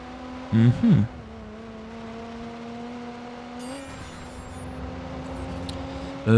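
A car drifts in the video game Watch Dogs, a steady engine whine with a sustained tonal pitch running under brief bursts of player talk at the start and end.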